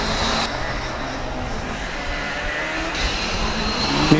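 Esslingen Formula Student race car running an autocross track, a steady broadband engine and tyre roar at moderate distance, continuous throughout with a slight swell at the end.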